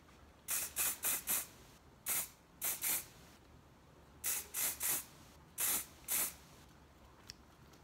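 Close-up pumps of a liquid spray bottle produce about a dozen short, crisp hissing puffs, grouped in rhythmic runs of two to four with brief pauses between the runs.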